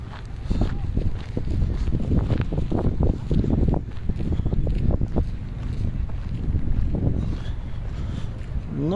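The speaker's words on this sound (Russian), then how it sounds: "ветер ледяной" Icy wind gusts outdoors in Vancouver, buffeting the microphone with a steady low rumble that swells and eases. A voice speaks now and then under the roar.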